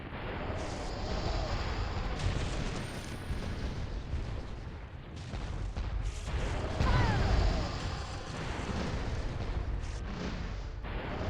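Booming pirate-ship cannon blasts rumble through a dense, continuous din of combat in the Xbox game Pirates: The Legend of Black Kat, loud throughout, with a heavier burst of explosions midway.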